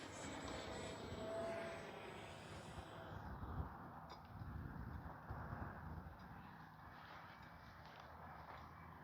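An X-Fly Swift 64mm EDF RC jet flies at about half throttle, a distant whooshing turbine-like whine that fades and shifts as it passes, with faint outdoor ambience and no talking.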